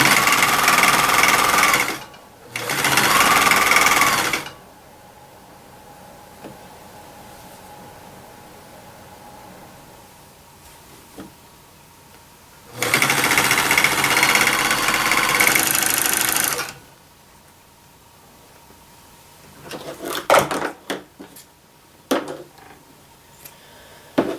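A serger stitches the fabric tail of a homemade mermaid blanket in two loud bursts, each roughly two to three seconds long, separated by a long quiet gap. Near the end, softer scattered clicks and handling knocks of the fabric and machine follow.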